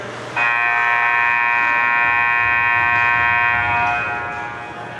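A loud, harsh arena buzzer ending a period of a 4-on-4 hockey game blares steadily for about four seconds over crowd noise, then fades as the crowd murmur continues.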